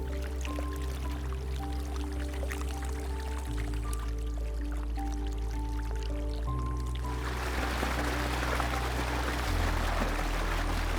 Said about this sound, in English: it is time for them to pump the water onto the field